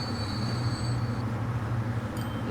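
Trains rumble along a rail line in a transport-building video game, a continuous low rolling drone with a faint high squeal of wheels near the end, heard alone without speech.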